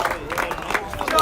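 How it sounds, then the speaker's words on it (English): Home crowd at a high school baseball semifinal between Jackson-Reed and Gonzaga gives a round of applause, scattered clapping and cheers swelling toward the end, with crowd voices mixed in. "they get a round of applause from the Tiger faithful here"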